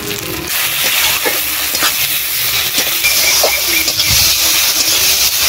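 Chopped tomato added to red-browned fried onions in a pan, a loud close hissing sizzle with occasional stirring scrapes and bubbling crackles.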